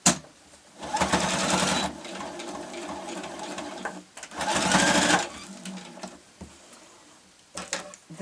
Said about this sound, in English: I'm just going to put a few stitches to secure that in the centre